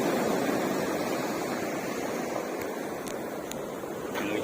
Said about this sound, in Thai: โอ้โหเสียงคลื่นครับผม